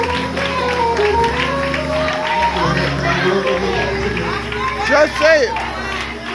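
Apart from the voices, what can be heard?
church congregation clapping hands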